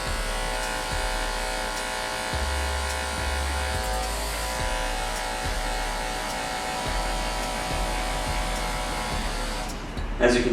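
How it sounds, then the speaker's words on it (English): Andis BGRC hair clippers fitted with a number 1 attachment buzz in a steady electric hum close by during a mid fade haircut, with faint talk and a brief clatter at the end. "let's get started with our Andis BGRC clippers"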